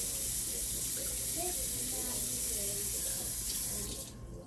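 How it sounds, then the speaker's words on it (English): Water runs in a steady hissing stream, like a tap filling a pot, then cuts off near the end. "I'm gonna put another 1/4 of a cup of water"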